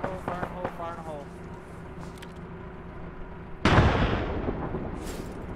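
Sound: demolition charges exploding in the video game Arma

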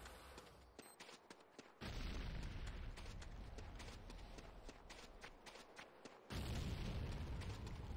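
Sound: C4 explosion in video game Command & Conquer Renegade

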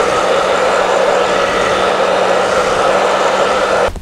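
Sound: blow dryer setting teased hair

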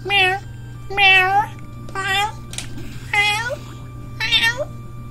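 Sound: person imitating a cat meowing

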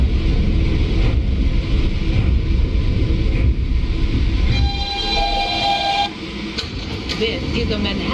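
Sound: subway train running in OpenBVE train simulator video game

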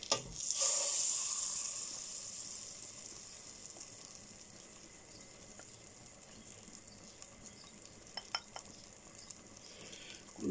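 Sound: butter melting and sizzling in a pan

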